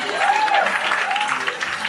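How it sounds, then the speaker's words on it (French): A theatre audience applauds at a stage show, a brief, steady wash of clapping with a faint whistle-like tone over it. "Applaudissez!"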